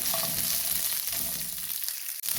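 A handful of shallots frying in hot oil for a chutney, a continuous close crackling sizzle with faint stirring, alone and with no talking.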